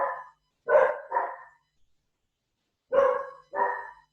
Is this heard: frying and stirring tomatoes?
no